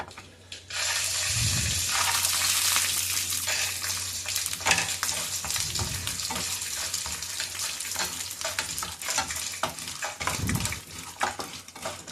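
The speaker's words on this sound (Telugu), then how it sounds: "శనగ పలుకులు, జీడిపప్పు, పోపులు ఇవన్నీ వేయించుకోవాలి." Chana dal, cashews and tempering seasonings sizzle steadily in hot oil for tamarind rice, with occasional stirring knocks and scrapes close by and no talking.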